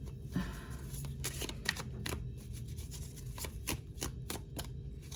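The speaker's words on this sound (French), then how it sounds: "j'ai une carte qui est retournée" Tarot cards being handled and one turned over, a series of quick crisp papery snaps and flicks at close range in an otherwise quiet room.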